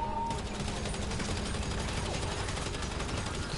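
Continuous automatic gunfire and rocket fire crackle through a GTA 5 video game firefight, a dense unbroken rattle that holds loud and steady from start to finish.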